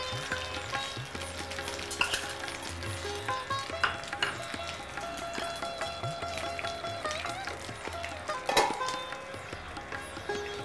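Ginger paste frying under a lid in a pan, a continuous crackling sizzle with small pops and splatters and an occasional louder metallic clack, fairly faint and steady throughout with no talking.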